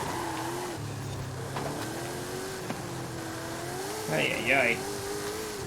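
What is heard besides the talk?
DeLorean DMC-12 twin-turbo V8 engine in video game Forza Horizon 5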